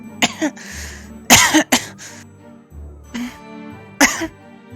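Several harsh coughs come in uneven bursts, some doubled, with a throat-clearing rasp between them and quieter breathing in the gaps.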